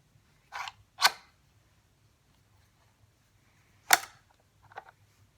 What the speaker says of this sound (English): push that button and it accepted the bolt